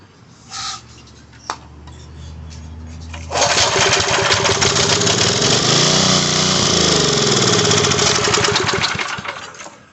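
A frozen Coleman Powermate 2000 watt PM54-2000 generator whose carburetor needs a rebuild: a couple of brief pull-start attempts, then the small engine catches and runs loud and steady with a rough, buzzing drone close by.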